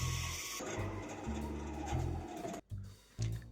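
A bandsaw cuts wood for a puzzle box in a workshop, a close, buzzing whine with the motor note rising and falling as the blade works through the piece, broken by two brief pauses.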